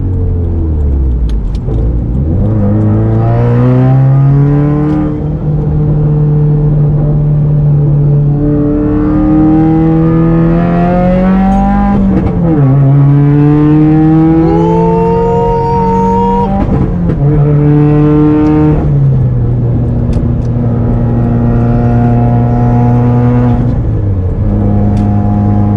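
A built 400-horsepower Subaru accelerates hard up an on-ramp in hot weather, engine loud and close from inside, climbing through the revs with brief dips at gear changes, several pulls in a row.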